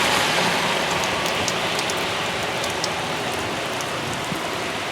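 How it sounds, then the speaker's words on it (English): Heavy rain pours steadily during a rainstorm, a dense, constant hiss and patter of drops hitting surfaces with no pause; a few brief crisper splashes stand out near the top, and no one speaks. "I haven't seen it rain this hard in months."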